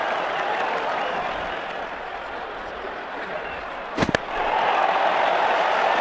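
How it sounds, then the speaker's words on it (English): Stadium crowd in the Cricket 07 video game roaring after a six is hit, a broad sustained wash of cheering and applause with a couple of sharp knocks midway before the noise swells again. "The crowd enjoyed that shot."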